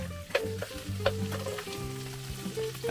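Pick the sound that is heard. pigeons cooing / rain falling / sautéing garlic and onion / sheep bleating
sautéing garlic and onion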